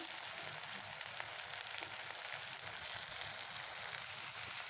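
Cumin seeds frying in hot oil for a Bengali fish-head lentil dish, giving a steady, dense sizzle that runs unbroken and evenly loud throughout.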